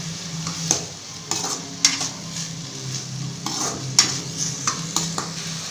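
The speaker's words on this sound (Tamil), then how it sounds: "தக்காளி வெங்காயமும் நல்லா வதங்கட்டும். சீக்கிரமாக வதங்கி வந்துடும்." Onions and tomatoes sauté in a pan with a steady sizzle, broken by several sharp scrapes and knocks of a spoon stirring against the pan.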